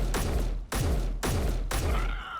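Repeated rifle gunfire against a zombie horde in the video game Space Engineers: four loud, close, evenly spaced shots, each with a sharp crack and a booming low tail, alone with no talk.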